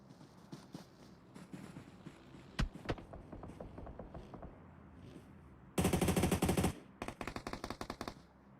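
Gunfire in PUBG Mobile during a competitive esports match: scattered single shots and short bursts, then a dense, loud sustained automatic volley followed by rapid repeated bursts.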